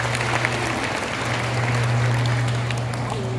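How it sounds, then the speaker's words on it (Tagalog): An audience at the Gawad San Pedro awards gives sustained applause for an awardee, dense steady clapping from many hands over a low constant hum, with no voices. "Bigyan po natin siya ng sinabong palakpak."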